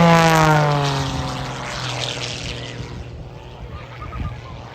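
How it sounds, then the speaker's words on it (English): A one-of-a-kind aerobatic propeller plane with smoke on flies past at an air show, its engine loud and droning with a falling pitch, then fading into the distance. "the one-of-a-kind aircraft comes flying through. Smoke is on"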